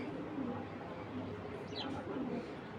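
Pigeons kept in a loft give soft, low cooing over a faint background hiss, a few gentle murmuring calls, with no talk.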